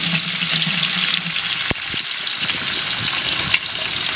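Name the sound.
onions frying in oil for chicken biryani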